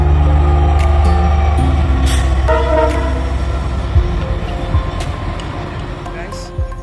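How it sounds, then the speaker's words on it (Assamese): A train approaching past farm fields in rural Assam, heard from outdoors as a rising rumble with a sustained horn-like tone early on, then fading into a softer rolling sound, with a voice over it. "সেইপিনে ট্ৰেইন এখন আহি আছে,"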